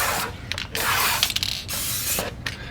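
Tire dressing sprays from an aerosol can in several short hissing bursts, close and fairly loud, separated by brief gaps with faint mechanical clicks.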